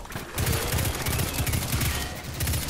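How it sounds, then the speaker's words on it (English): Rapid automatic weapon fire in Destiny 2 rattles in a dense, loud, continuous burst of stuttering shots with brief breaks, close and dominant throughout. "That was some bad shooting."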